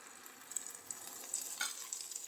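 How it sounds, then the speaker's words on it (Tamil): Tomatoes sauté in hot oil for egg noodles, giving a soft continuous sizzle with light scraping stir strokes, close but faint, no speech. "நல்லா தக்காளி வதங்கட்டும்"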